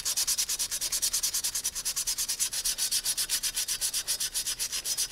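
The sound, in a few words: sanding Yamaha RZ350 motorcycle parts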